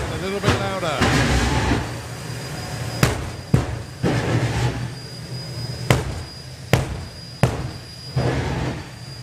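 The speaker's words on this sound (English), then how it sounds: "The pops and bangs become a little bit louder." A turbine-powered drag car running a Sikorsky helicopter engine at a drag racing event lets out a series of sharp pops and bangs, roughly eight loud spaced cracks over a steady roar, with talk over the top.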